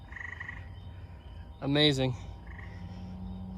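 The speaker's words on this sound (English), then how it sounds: "This is the eastern gray tree frog" An eastern gray tree frog gives a single short, loud musical trill, a rapid pulsing call lasting about half a second, with quieter distant frog calls and a brief spoken word around it.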